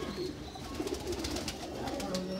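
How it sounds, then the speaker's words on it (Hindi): Sialkoti pigeons, including a blue dumba-type bird, coo in low soft rolling notes amid a busy loft with other birds and background noise; a voice murmurs faintly. "दोस्तों एक नील दुंबा जा कबूतर है, वैशी बड़ा अच्छा परिंदा"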